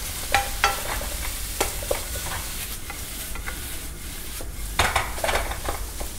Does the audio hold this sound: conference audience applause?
no